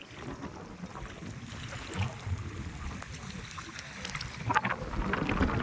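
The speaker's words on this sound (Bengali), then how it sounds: "হাওয়াও প্রচুর দিচ্ছে, খুবই ঠান্ডা লাগছে" Strong, cold wind sweeps across a flooded field during rain, producing a steady rumbling roar with gusty buffeting that swells toward the end.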